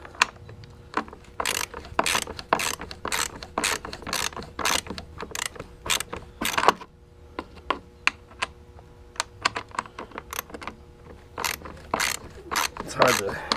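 A ratchet tightening a bolt on a Honda lawnmower gives rapid, repeated clicking bursts in quick strokes, close and fairly loud, with short pauses between runs of clicks.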